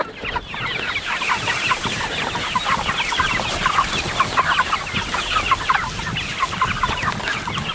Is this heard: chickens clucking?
yes